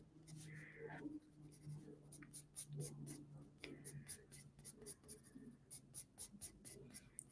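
Pencil lettering on bullet journal paper, with quick scratchy strokes building into a steady rhythmic scribble that grows busier toward the end, close and fairly quiet.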